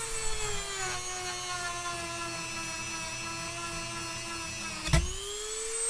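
A Dremel rotary tool bores into a wooden drawer to widen a hole, giving a steady, close, high-pitched whine that dips briefly near the end before spinning back up.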